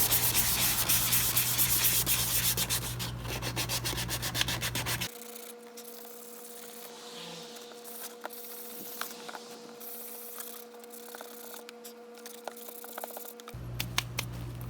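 Hand sanding on a motorcycle fender extension glued on with epoxy, a dry rhythmic rubbing scrape up close, broken by a quieter pause in the middle before the rubbing resumes.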